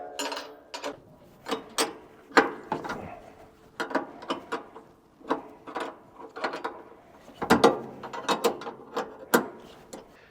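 Two bolts coming off a Japa 365 firewood processor during a hydraulic repair: close, irregular bursts of metallic ratcheting clicks separated by short pauses, with no talking.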